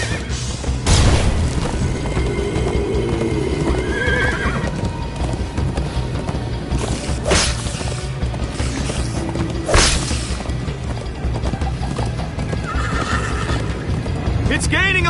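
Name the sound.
horse galloping and neighing in a PS4 video game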